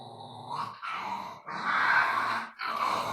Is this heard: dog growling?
yes